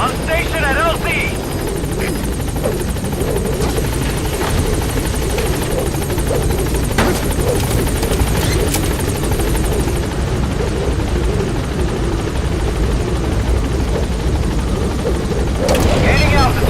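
A helicopter in Metal Gear Solid V: The Phantom Pain climbs for altitude, its loud, continuous rotor and engine roar filling the scene, with radio-style voices speaking over it and a chirping electronic tone near the start.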